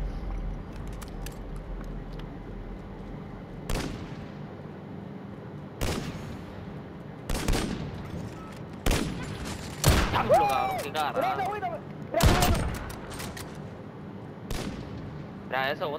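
Sharp gunshots in Call of Duty: Modern Warfare crack out one at a time at irregular intervals, loud and close, over a low electronic hum with faint game sounds between them.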